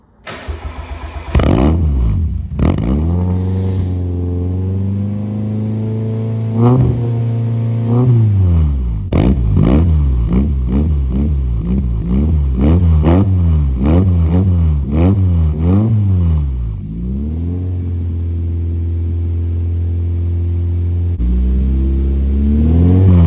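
A loud right-hand-drive car engine starts and revs repeatedly, deep throaty exhaust rising and falling in quick bursts before settling to a rumbling idle.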